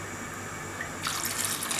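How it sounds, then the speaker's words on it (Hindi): Half a cup of water pours into a pot of soaked plums for a Pakistani plum chutney, a continuous splashing rush that starts partway through over steady kitchen background noise. "अब इसमें हम डालेंगे 1/2 कप वाटर।"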